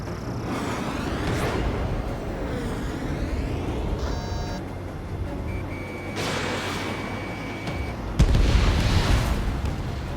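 Missile explosions and combat effects from the jet fighter game Ace Combat 7 come as dense rumbling booms, with beeping lock-on tones and a warning tone layered between them and a sharp louder burst near the end.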